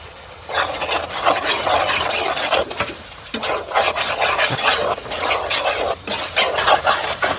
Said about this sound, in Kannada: ಈಗ ಹಾಕಿದನ್ನು ಮಿಕ್ಸ್ ಮಾಡ್ತೇನೆ